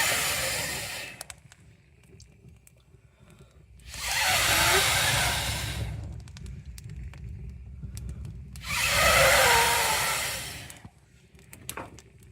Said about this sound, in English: Blow until you see flames kind of consuming the log.